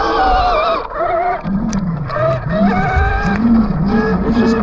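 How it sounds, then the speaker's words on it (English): A 72V Rawrr Mantis X electric dirt bike spins its tire on dry pine needles in Florida: a loud, close electric motor whine rising and falling in repeated surges over scrabbling tire noise. "That's why it's spinning so much. And we're on pine needles."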